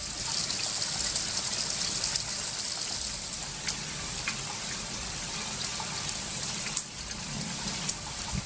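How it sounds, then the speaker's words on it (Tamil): Heavy rain falling steadily for a long stretch outdoors, a dense, continuous hiss of drops with trickling water and a few sharper splashes, with no voices. "1 மணி நேரம் பலத்த மழை பெய்தது."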